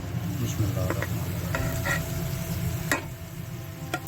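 Pounded spinach goes into a pan of potatoes for a dhaba-style aloo palak and gets stirred. A steady sizzle and frying hiss runs throughout, with scraping stirs and a few spoon knocks close by.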